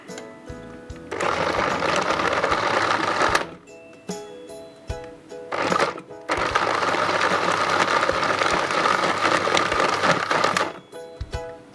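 Kitchen blender whirring through an oats smoothie in long loud bursts, stopping and restarting with short pauses and clicks between runs, no talk.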